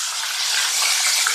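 Ginger garlic paste frying in a pan with whole chillies and curry leaves for Hyderabadi baghare baingan, a steady close sizzling hiss with no talking.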